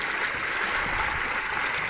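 Clear water gushes steadily from a village pump, a constant, close, full splashing rush with no voices.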